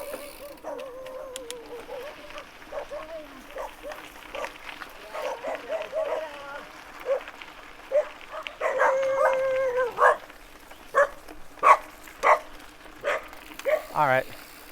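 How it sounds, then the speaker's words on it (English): A group of dogs barks and yips at close range beside a mountain bike trail in Thailand, sharp repeated barks coming in bursts that grow denser toward the end, with people talking over them. "we've got a scary dog group up here"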